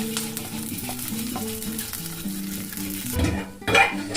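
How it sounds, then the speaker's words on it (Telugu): Green chillies frying in a pan for peanut chutney to go with dosa, with a close, continuous sizzle and stirring throughout and a louder scrape toward the end. "సో ఫస్ట్ మిర్చి ఫ్రై చేసుకొని నెక్స్ట్ కావాల్సినన్ని గ్రౌండ్ నట్స్ కూడా వేయించుకొని"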